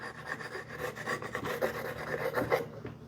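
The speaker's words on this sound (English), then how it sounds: "can you see how it just takes the paint off" A caulking tool scrapes paint off a wooden end table, giving a steady close rasping rub with rhythmic strokes throughout a short stretch, no voices.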